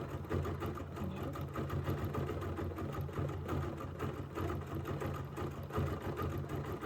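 A sewing machine stitches over couched fibers in a steady rapid mechanical chatter, close and continuous throughout with a slight pulsing rhythm.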